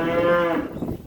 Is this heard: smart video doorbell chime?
no